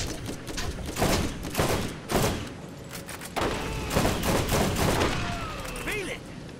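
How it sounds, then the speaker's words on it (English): Gunfire in the video game Borderlands: a series of sharp shots in irregular bursts across several seconds, some overlapping into quick volleys, with game effects and sweeping tones near the end. "I've been shooting them."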